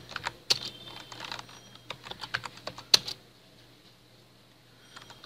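Someone types on a computer keyboard while entering commands for a Huawei GPON OLT. Bursts of quick, sharp clicks come close and fairly soft, then a short pause and a final keystroke.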